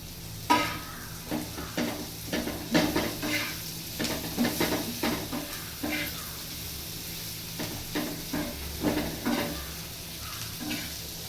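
Spiny gourd (kantola) sizzling in a pan, a continuous frying hiss punctuated by frequent scraping stirs and clatter from a spatula, close and fairly busy throughout.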